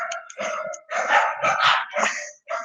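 Several dogs bark loudly and close by in a rapid, overlapping run of sharp yips and barks with short gaps between them, and no one speaks.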